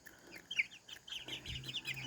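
Chickens cluck and chirp faintly while being fed outdoors, with scattered short calls at a distance and a soft thump partway through.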